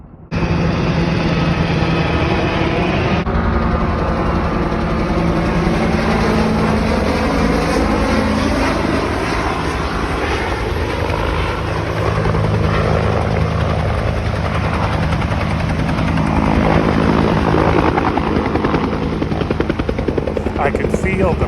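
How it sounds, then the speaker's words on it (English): A helicopter hovers close by while loading water to fight a wildfire in Mason County, its rotor and engine roaring continuously and loudly with a steady thudding pulse, while a voice talks faintly beneath it. "I can feel the prop wash from the helicopter where I'm standing"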